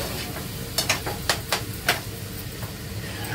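Jhunka being stirred as it cooks in a pan: a handful of quick, close scraping strokes over a steady low sizzle, with no talking.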